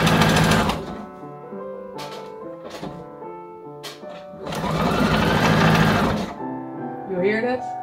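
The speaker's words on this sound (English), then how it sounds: "That's the machine saying you're out of lower thread." Vintage sewing machine stitching lace, signalling it has run out of lower bobbin thread: loud bursts of whirring mechanical running separated by short pauses and thumps, with a longer stretch near the end and voices talking over it.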